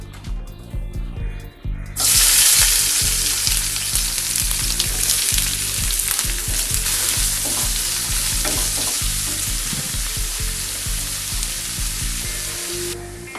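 Onions fry in hot oil in a pan, a loud, steady sizzle with crackles that holds after they go in, alongside occasional stirring knocks from a spoon.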